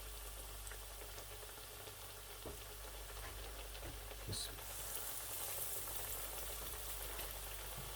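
Pizza cutlets frying in a pan, a steady broadband sizzle running the whole time with a few soft knocks as the pieces are handled, no talking.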